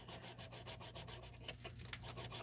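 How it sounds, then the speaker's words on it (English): A rolled-up piece of sandpaper rubs against a car bumper part in quick, steady back-and-forth strokes, faint and close, with no one talking. "just a piece of rolled up sandpaper helps you get that shape"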